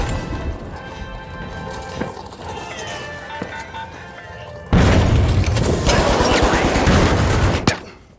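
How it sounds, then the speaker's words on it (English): A pyro grenade bursts in the video game The Finals: muffled game action and distant pops give way to a sudden loud blast followed by a dense, roaring crackle of fire that cuts off abruptly near the end. "Pyro grenade out!"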